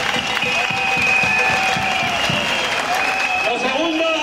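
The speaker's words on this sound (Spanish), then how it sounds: "Un aplauso para ellos." Crowd applause at a street demonstration in Spain, dense sustained clapping from many people throughout, with a faint whistle-like tone running over it.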